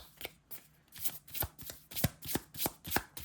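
Oracle cards shuffled by hand in a steady, close run of crisp riffling flutters, about ten quick bursts, with no talking.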